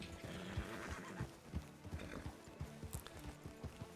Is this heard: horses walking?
yes